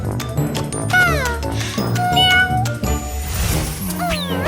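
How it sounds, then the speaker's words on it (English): A cartoon cat meows repeatedly in a toddler educational cartoon about airplane safety. The bright, sliding meows are loud and close, set over a steady backing of music. "Meow."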